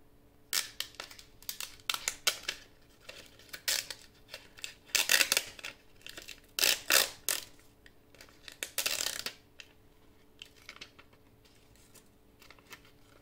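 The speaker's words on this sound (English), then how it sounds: "you can go in from a corner and start peeling it back" An infusible ink transfer sheet peels off its clear plastic backing in a series of short, crisp crinkling and rustling bursts, close and fairly quiet.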